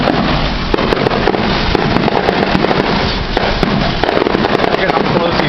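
Neighborhood fireworks party on a residential street, with dense, continuous crackling firecracker and fireworks bursts, loud and close, and someone talking through the noise.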